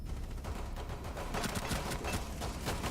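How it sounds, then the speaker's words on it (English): Rapid bursts of SMG-11 submachine gun fire during a competitive tactical shooter match, several quick shots over dense steady game noise, with no voices. "5 shots in the SMG-11"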